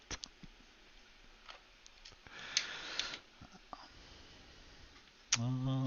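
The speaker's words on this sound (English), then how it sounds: "I can hear myself typing." Sparse, quiet keyboard typing: scattered light clicks and taps at an uneven pace, with a brief louder rustle midway, before a voice begins right at the end.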